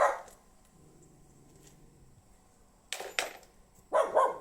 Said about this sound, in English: The neighbour's funny wee dog.